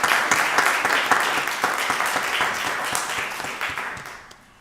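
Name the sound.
applause for Ms. Candy Rapp at a county board meeting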